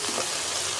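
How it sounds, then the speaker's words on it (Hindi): A brief, steady burst of hissing sizzle as onion fries in a pan, loud and close with no voices. "अच्छे से फ्राई हो गया है।"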